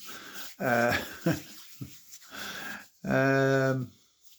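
A dog, fresh from a haircut, whimpers and whines close by in several tonal bursts: two short cries early on, softer yips in between, and a longer, louder whine near the end.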